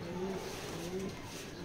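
Pigeons coo softly in a loft, a few low rounded calls repeating over steady background noise, with no talk.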